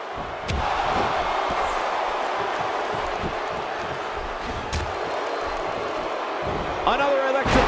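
A wrestling arena crowd from the WWE 2K16 video game roars in a steady, continuous din, with thumping impacts and slams punctuating it and a commentator talking over the top.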